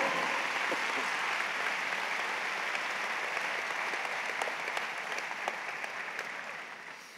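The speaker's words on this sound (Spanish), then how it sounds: "¿por qué no le das un buen aplauso a Él?" A church congregation applauds in a long, steady wash of many hands that stays dense throughout and fades slightly toward the end.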